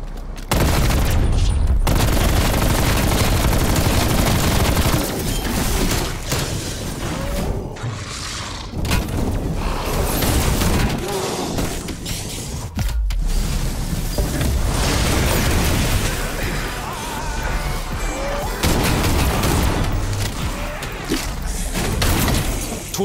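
Light machine gun fire in Call of Duty Black Ops Cold War Zombies outbreak, long loud sustained bursts with booms and explosions filling nearly the whole stretch, broken by brief pauses.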